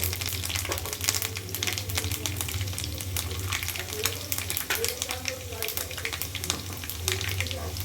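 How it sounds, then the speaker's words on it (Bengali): Dense crackling and popping of mustard and cumin seeds frying in hot oil, continuous and close, with a low hum underneath. "সর্ষে আর জিরে ফোড়ন দিয়ে দেবো।"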